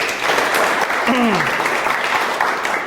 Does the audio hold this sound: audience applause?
yes